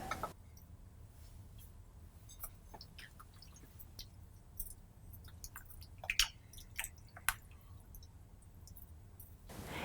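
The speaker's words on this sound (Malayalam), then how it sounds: "ഇനി ഇതിലേക്ക് നമ്മൾ സ്ലൈസ് ചെയ്ത് വെച്ചിരിക്കുന്ന ഹാലപ്പീനിയോ പിക്കിൾ ആഡ് ചെയ്ത് മിക്സ് ചെയ്യുക." Turkey bean chili being stirred together with sliced jalapeño pickle, soft wet squelches and scattered light clicks of a spoon against the pot, quiet and close, with no talking.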